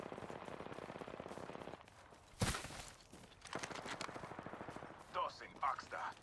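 Apex Legends gameplay carries bursts of automatic gunfire, rapid rattling shots with a loud sharp blast midway and further volleys after it, all under game sounds and effects.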